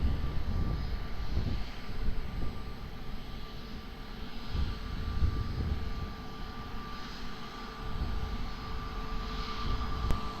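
A fixed-wing airliner approaches runway 20 at Lisbon Airport, its engines producing a steady, broad roar that swells and eases slightly over several seconds with no pause.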